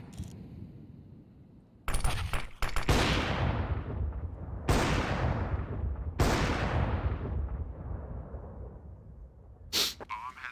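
Gunfire during a professional Counter-Strike match on the Mirage map, Evil Geniuses versus Badass in the ESL Challenger League playoffs. Four loud, sharp bursts ring out at uneven intervals, each trailing off in a long echoing tail, with quieter game ambience between them.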